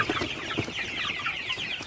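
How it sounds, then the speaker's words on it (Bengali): Golden super hybrid chickens clucking at night on a poultry farm, a close flock giving several soft, irregular clucks over a steady background murmur. "আপনারা দেখতে পাচ্ছেন আমার সোনালী সুপার হেভিট মুরগি"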